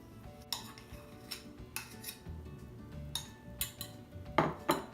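Soft scraping and clinking of a metal pastry blender against a bowl, mashing Crisco into flour, repeated in irregular strokes, close and fairly quiet, with no talking.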